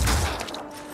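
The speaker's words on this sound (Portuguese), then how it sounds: "Vou dar só um tiro no torso dele" A single in-game gunshot to an enemy's torso in the tactical game Phoenix Point, a short heavy report with a deep low thump at the start that decays quickly, loud and close with no talk.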